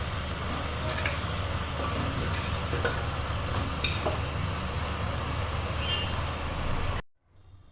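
Chicken sizzles and frying continues in a pan as papaya, potato and carrot are added for stew, with a few scraping stirs and clinks over a steady hiss before the sound cuts out.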